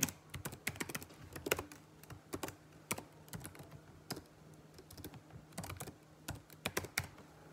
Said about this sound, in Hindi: आपको डायरेक्ट यहाँ पे अपनी ईमेल डालनी है जैसे कि मैं अपनी ईमेल डालता हूँ अभी